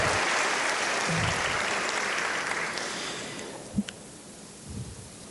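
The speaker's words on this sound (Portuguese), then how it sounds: "Uma salva de palmas ao nosso deputado estadual." An audience applauds a state deputy at a formal lecture event in Brazil, giving a dense, rain-like wash of clapping that slowly fades away, with a couple of louder knocks near the end.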